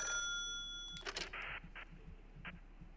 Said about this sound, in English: there's the phone ringing